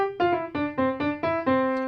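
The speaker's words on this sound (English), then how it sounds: "One is Deck the Halls, which sounds like this." A piano picks out the opening of Deck the Halls as a short run of clear, distinct notes, each one struck and left to ring briefly, played alone and close.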